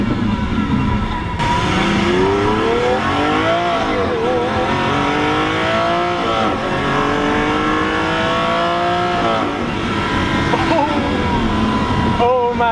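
A Lamborghini Aventador supercar with a single-clutch gearbox accelerating hard, the engine climbing through rising revs in several pulls with shifts between them, loud and close, with a voice talking over it.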